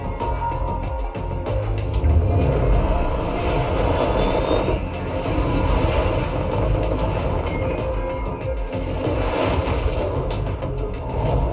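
The Anvil Valkyrie's four rotating VTOL thrusters from Star Citizen roar in a sustained, loud, steady engine drone with a layered mechanical whine, holding throughout with slight swells.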